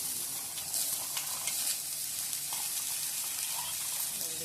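Green beans sizzle and fry in a pan for a beans poriyal, a constant bright crackling hiss with occasional stirring clicks throughout.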